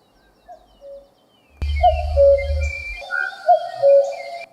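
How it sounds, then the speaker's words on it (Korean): A cuckoo calls in a recorded birdsong clip, several two-note tonal calls repeating over a low rumble and scattered chirps, clear and fairly close. "우는 소리처럼 바로 이름은 뻐꾸기예요"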